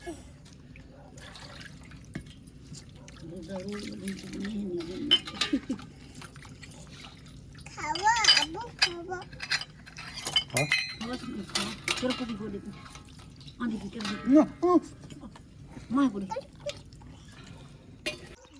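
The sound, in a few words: washing dishes, pots clinking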